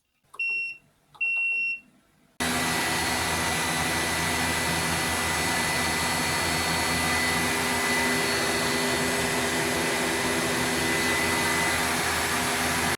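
After a few short electronic beeps and a moment of quiet, a vacuum cleaner, box fan and space heaters power up together into a loud, continuous whooshing roar that holds steady to the end.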